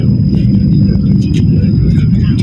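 A TurboJet ferry engine rumbling steadily and loudly at close range on the water between Macau and Hong Kong, with a constant low drone running throughout and a faint high whine above it.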